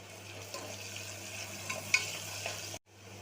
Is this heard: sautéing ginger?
yes